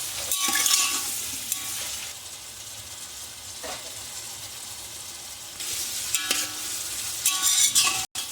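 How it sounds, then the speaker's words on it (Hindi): Onions sizzle steadily in hot oil for white pulao, with intermittent stirring scrapes and clinks of a utensil against the pan, close and moderately loud, with no talking. "प्याज को हमको ज़्यादा नहीं फ्राई करना है, थोड़ा सा करना है"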